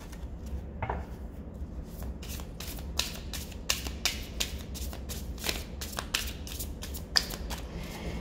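Someone shuffles a deck of tarot cards in repeated quick, papery bursts over a steady low background hum, close by, with no one talking.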